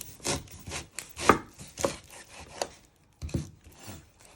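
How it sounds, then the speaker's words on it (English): A knife chops the ends off an onion on a board, with several sharp, close thuds spaced apart and a short pause before the final cuts; no one speaks. "You first chop off your ends"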